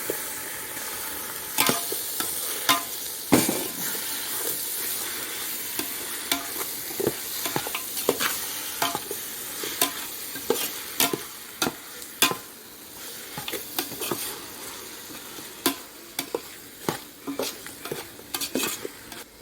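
A kilo of chicken sizzles in a pan for chicken pulao while a spoon stirs it. Steady frying hiss runs throughout, with frequent scraping clinks of the spoon against the pot and no voices.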